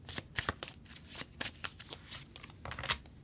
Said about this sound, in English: We will pull one final card from the Manifest Your Soulmate Oracle